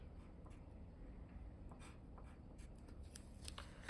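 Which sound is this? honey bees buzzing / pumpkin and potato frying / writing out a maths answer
writing out a maths answer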